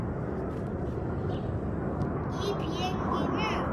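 A Swiss Air Force airplane flies over an air show at Grindelwald, a steady broadband roar that holds through the clip. Faint jet whines rise near the end, and a voice can be heard briefly.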